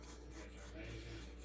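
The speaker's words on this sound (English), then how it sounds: "I'm just going to take a fork and combine that sugar and flour" Quiet, gritty rubbing and scraping, like a fork working through dry sugar and flour in a bowl, close and soft.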